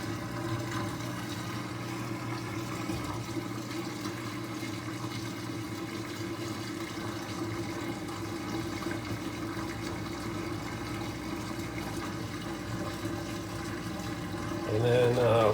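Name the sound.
Whirlpool WTW5000DW washing machine draining water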